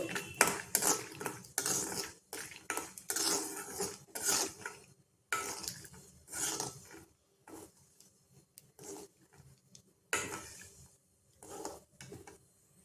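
Peanuts roasting in a pan with tempering for Dharwad avalakki, stirred with a spoon: repeated close metallic scrapes and clinks in bursts separated by short quiet gaps, no speech.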